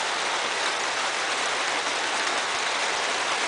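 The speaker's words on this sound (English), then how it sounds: "I like the rain on the roof." Heavy rain drums steadily on a roof, a dense, constant hiss of drops with no pauses and no voices.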